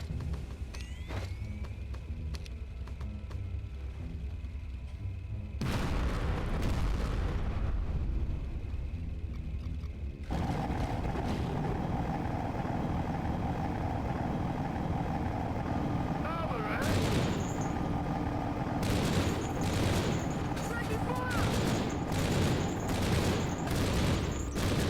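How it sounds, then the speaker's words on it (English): Booming tank cannon blasts and crackling gunfire fill a desert battle in Conflict: Desert Storm, heavy bursts shifting in intensity with a rumbling mechanical background and some speech. "My tank just got one-shot by a different tank."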